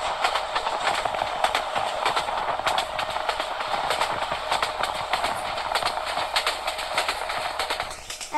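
Subarna Express train running at high speed in the Train Simulator Bangladesh game, a steady loud rolling rumble with rapid repeated wheel clicks and a constant hiss throughout, no voices.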